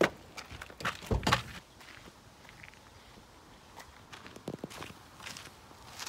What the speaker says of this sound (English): Getting out of the car now.